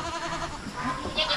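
Goats bleat briefly on a farm where kids have recently been born, a short close call or two over a busy background.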